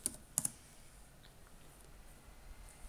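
A few quick keystrokes on a computer keyboard while entering commands on an Ubuntu server, faint, scattered clicks bunched at the start, then near silence.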